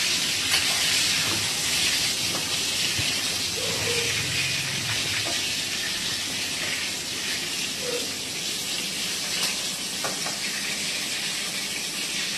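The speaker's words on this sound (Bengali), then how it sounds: "বেগুনটা ভাজা হতে হতে তোমাদের সাথে একটু গল্প করি" Brinjal (eggplant) fries in a pan, a steady loud sizzling hiss that continues evenly throughout with only faint kitchen clinks.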